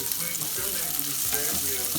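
Vegetables and spices sauté in a hot pan, giving a steady close sizzle and crackle with a faint stirring texture and no talking.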